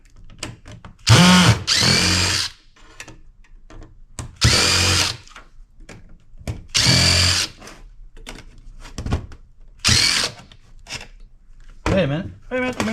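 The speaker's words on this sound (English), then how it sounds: "now we get the screws out that are holding down the board" Power drill backing out screws that hold down a Dell OptiPlex 9020 motherboard, running in five separate whirring bursts of about one to two seconds each, separated by short pauses, with a few clicks and faint handling noise between them.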